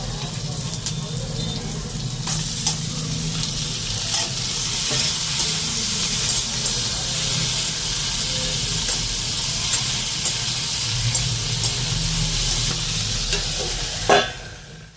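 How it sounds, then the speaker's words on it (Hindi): Onion and tomato frying in oil in a pan, a continuous close sizzle with occasional stirring scrapes throughout, ending in a sharp clatter near the close. "फिर यहाँ पर थोड़ा सा तेल डाल दिया है इसको फ्राई करने के लिए"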